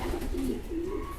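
Pigeons at a loft in Prahova, Romania, coo in low, rolling phrases, two or three close, steady calls following one another with no voices over them.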